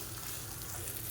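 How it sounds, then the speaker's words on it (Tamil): Urad dal chutney ingredients frying in hot oil in a pan, a steady close crackling sizzle with gentle stirring and no voices. "இப்போ இந்த துவையில் போட்டு இந்த எண்ணெயில் நல்லா பரட்டி எடுத்துக்கலாம்."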